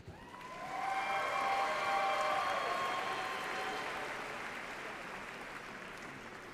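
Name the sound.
audience applause for doctoral graduate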